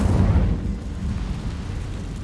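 Fiery whoosh and rumble of the Incendio fire spell cast in Hogwarts Legacy, a loud low roaring burst that fades into a sustained crackling rumble.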